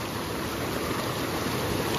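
Mountain water rushes steadily through the channel of a traditional Himalayan water mill (gharat), a dense, continuous close-up roar with no pauses.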